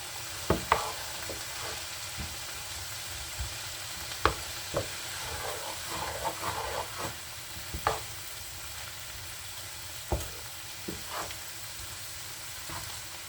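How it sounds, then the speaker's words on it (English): Onions sautéing in a pan for peperonata calabrese give a steady soft sizzle and fry hiss, broken by occasional clinks and stirring scrapes at close range, with no talk. "I'm just going to begin to wrap up the onion sauteing"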